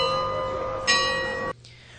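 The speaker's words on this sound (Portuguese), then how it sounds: "A única alternativa por enquanto é usar o sino convencional" A conventional church bell rings with a sustained metallic tone and a fresh strike partway through, then fades into a lingering hum, heard fairly close.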